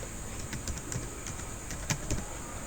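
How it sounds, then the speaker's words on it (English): Computer keyboard typing, with a run of soft, close key clicks in an uneven rhythm over a constant background hum and no talk. "Now we type here somewhat,"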